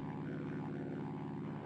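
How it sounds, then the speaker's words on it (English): World War II dive bomber engines drone in a steady, continuous propeller roar, loud and unbroken throughout with no voices. "dive bombers suddenly appeared high overhead"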